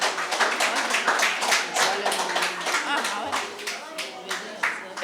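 Pupils and audience at a school maths quiz for upper primary clap together in a brisk, sustained round of sharp, close handclaps filling the room, with faint voices underneath.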